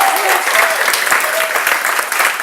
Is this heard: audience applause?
yes